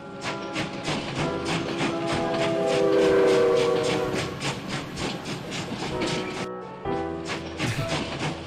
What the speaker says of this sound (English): The little train part's really cute.